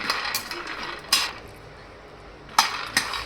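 Peanuts for masala sing being roasted and stirred in a pan, heard as a few sharp metallic scrapes and clinks of a spoon against the pan, spaced apart over a quiet background.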